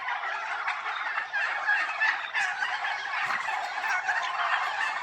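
Several turkeys on a farm gobble and chatter over one another in a continuous, lively flock chorus, moderately close, with no talking.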